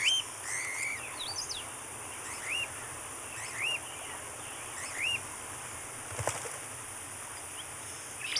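Birds call at the Zapata Peninsula bird refuge in Cuba, a series of short rising chirps and whistles repeating every second or so over a faint hiss of wetland background, with a brief sharp click near the end.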